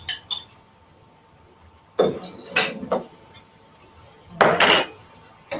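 Chilled cooked basmati rice with green peas tipped into a pan, arriving in a few separate bursts of scraping, clinking clatter against the pan with quiet pauses between them.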